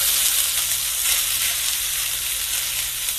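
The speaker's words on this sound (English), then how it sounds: "I'm going to put my onions and my peppers in first because they cook longer than the garlic does." Onions and peppers frying in a pan at home, a steady, close hiss of sizzling oil that holds evenly without pause and without talk.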